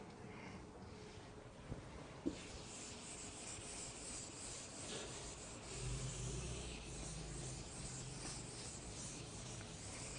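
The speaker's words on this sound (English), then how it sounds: "I'll rub just few points here on the top" Faint, steady rubbing scrape of something being rubbed out on a board during a zoology lecture, soft and continuous with a couple of light knocks, no speech over it.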